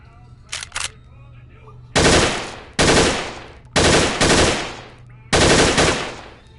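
An MP5 submachine gun fires in a VR shooting game in four loud, close automatic bursts, each lasting about a second, with two brief clicks before the first burst.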